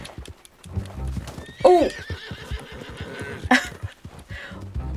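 Horse in the Red Dead Redemption video game neighing with a loud whinny and again a little later, over steady clip-clopping hooves, with a man's brief exclamations in between.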